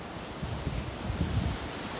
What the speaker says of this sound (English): the beautiful ocean, even though it's overcast, it's beautiful